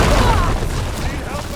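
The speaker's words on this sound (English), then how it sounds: "It's gonna explode." A loud, rumbling explosion in Horizon Forbidden West video game fills the space with a dense, sustained roar during a battle scene, with a voice heard under the blast.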